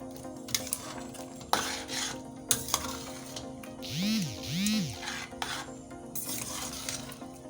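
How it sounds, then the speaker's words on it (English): A spoon scrapes and stirs ogbono soup in a cooking pot, with a few sharp metallic knocks against the rim and two swishing sweeps, all close over a soft simmering hiss. "Then you stir."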